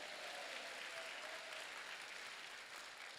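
A congregation at a summer mountain revival meeting claps together, a steady, even roar of many hands heard from some distance, faint and continuous with no talking over it.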